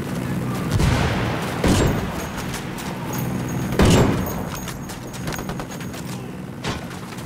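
In the Ghost Recon Wildlands shooter game, a frag grenade explosion and gunfire sound during a convoy fight: heavy booming blasts and gunshots punctuate a dense, continuous battle din.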